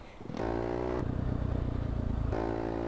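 A video game motorcycle, a Honda Titan in GTA San Andreas, revs loudly and continuously, a throaty buzzing exhaust rising in pitch, with no talking.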